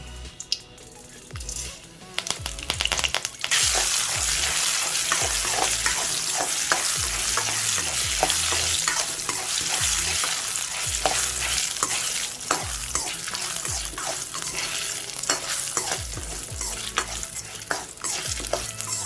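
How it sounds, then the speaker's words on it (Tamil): Mustard seeds, urad dal, dried red chillies and curry leaves frying in hot coconut oil, a loud continuous sizzle with crackling pops and spattering that bursts in after a quiet start and holds steady without talk. "இப்போ கடுகு, உளுத்தம்பருப்பு, காஞ்ச மிளகாய், கருவேப்பிலை சேர்த்துடலாம்."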